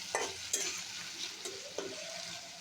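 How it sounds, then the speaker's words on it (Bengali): Small fish cooking with onion paste in a pan, stirred with a few scrapes and clinks against a soft background sizzle, close and fairly quiet with no talking. "একটু নেড়ে নিচ্ছি। এ পর্যায়ে দিয়ে দিচ্ছি পেঁয়াজ বাটা"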